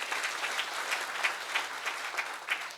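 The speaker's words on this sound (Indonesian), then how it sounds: "Tepuk tangan lagi buat Pak Haji Adi Bawono." Applause from an audience at a motivational event, steady dense clapping filling the whole stretch with small surges, moderately distant and alone without talk.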